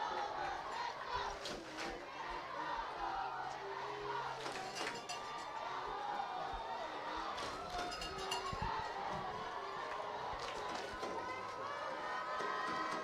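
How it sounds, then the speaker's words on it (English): Home crowd at a high school football game between Edcouch-Elsa and B. Lopez, a steady dense roar of cheering and yelling with scattered shouts and clinks, sustained throughout at moderate distance. "the entire Lopez Nation is going crazy on the home side, trying to cheer their team on"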